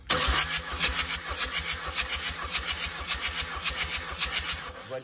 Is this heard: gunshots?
no